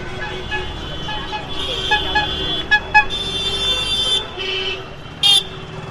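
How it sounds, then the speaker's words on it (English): Busy street traffic in a Calcutta, India neighborhood in December: a steady roadway rumble with repeated short car horn toots, two sharp honks close together near the middle and a louder blast toward the end. "This is the sound of a neighborhood in Calcutta, India in December 2016."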